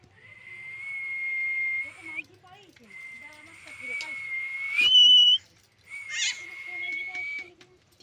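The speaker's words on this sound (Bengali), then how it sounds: "টিয়া পাখি কথা বলছে" A caged parrot gives loud, sustained high whistles in long steady stretches with short breaks, mixed with chattering, voice-like calls, close by.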